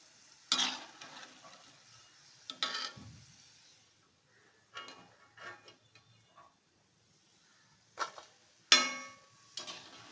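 Sweet jaggery seedai dough balls frying in oil, heard as scattered bursts of sizzling and stirring clatter separated by quiet gaps, fairly faint and close, with no talking.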